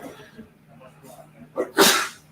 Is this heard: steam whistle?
no